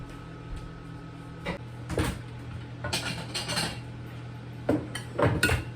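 A pot is set down on a kitchen stove with a few solid metallic clanks and clatters, scattered over several seconds against a steady low hum, close by and moderately loud.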